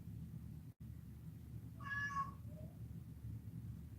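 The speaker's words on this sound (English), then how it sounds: "My little kitty." A pet cat gives a single clear meow with a second, fainter trailing call, close by over a low steady room hum.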